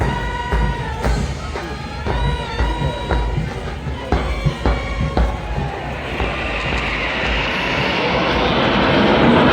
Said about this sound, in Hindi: approaching majestic blend of four powerhouses, the Sindoor formation, Rafale, MiG-29, Sukhoi 30 and Jaguar